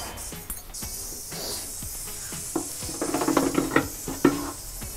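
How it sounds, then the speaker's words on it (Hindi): Mustard oil for rajma going into a hot pan, giving a steady hiss with bursts of crackling sizzle and a few light clinks of a ladle against the pan, close by and with no talk. "तो सरसों के तेल मैं डाल रही हूँ।"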